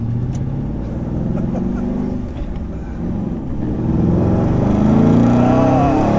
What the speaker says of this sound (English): There's that Mustang sound.